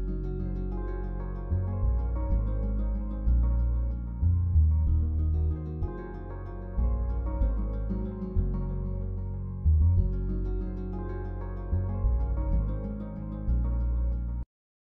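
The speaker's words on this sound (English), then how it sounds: "the bass, the low synth, and the guitar and the clave together sounds like this." An Afro Congo groove with bass, low synth, guitar and clave playing together: a dense, bass-heavy loop under a bright guitar riff and clicking clave, steady and upbeat, with no voices.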